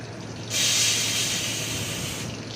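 Mustard seeds and cumin hitting hot oil for tempering, a sudden loud sizzling hiss that bursts up close and holds steadily for about two seconds before easing off.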